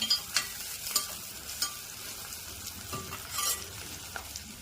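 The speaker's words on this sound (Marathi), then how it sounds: "कांद्याला परतू द्यायचा आहे छान असा, थोडासा लाल रंग येईपर्यंत." Chopped onion sautéing in hot oil for poha, a steady soft sizzle with intermittent scraping stirs of a spatula against the pan, close and moderately quiet, no talking.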